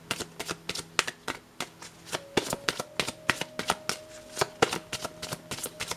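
Tarot cards are shuffled in a steady hand-over-hand rhythm, producing crisp, evenly spaced slaps and flicks close to the microphone, with no talking.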